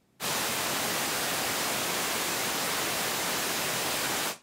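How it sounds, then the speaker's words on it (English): Steady broadband hiss of pink noise from a pink noise generator in a music production signal chain, constant and fairly loud, starting abruptly and cutting off cleanly after about four seconds. "selected the pink noise generator"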